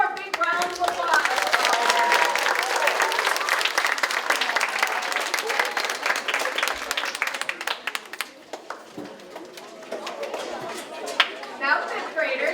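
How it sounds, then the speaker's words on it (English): Audience applause at a school DARE graduation for fifth graders, a loud sustained round of clapping from a crowd that gradually thins out, with murmured chatter underneath. "one more big round of applause."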